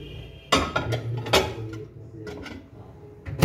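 A covered dish of mustard pomfret is set into a microwave oven, giving a few sharp clinks and clatters of dishware and a muffled knock, close and fairly loud against a quiet kitchen.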